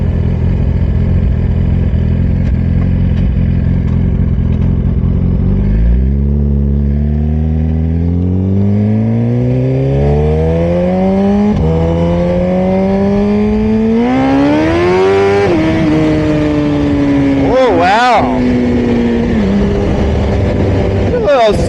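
A long-wheelbase Suzuki GSX-R 1000 on Core Moto wheels pulls hard in second gear, its engine note climbing steadily and loud with wind roar throughout, ending in a sharp burst near the end.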